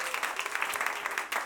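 A youth group meeting breaks into steady, dense applause to encourage students who just finished their college entrance exam, a brief even wash of clapping from the crowd.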